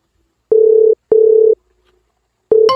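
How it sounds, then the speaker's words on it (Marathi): A telephone ringback tone heard while calling someone: steady tonal beeps in a repeating on-off rhythm, two full pulses and the start of a third, clear and close with no talk. "साहेबाला फोन लावतो अगोदर."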